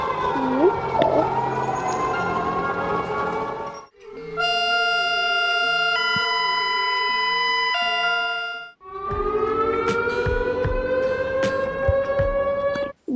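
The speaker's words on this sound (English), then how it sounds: "Wait, ignore the siren." Emergency alert siren tones play in three loud sections, each a sustained multi-tone electronic wail or steady chord, divided by short silent gaps.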